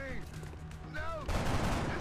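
An alien fires on a soldier in XCOM: Enemy Unknown. A few sci-fi weapon shots with descending whine tones are followed by a rough, crackling burst of fire that continues to the end.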